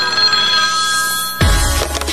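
A telephone rings in a Chinese police crime video game, a steady electronic trill holding on one pitch before a sudden low thump cuts in, with no voices heard.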